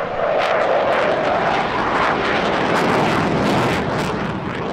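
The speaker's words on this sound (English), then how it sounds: "The sole modern fast jet of the show was the EF-18A Hornet, one of 72 A-model Hornets operated by the Spanish Air Force." Spanish Air Force EF-18A Hornet fighter jet passing at an airshow, a loud, sustained broadband engine roar that swells and holds steady throughout, with no voices.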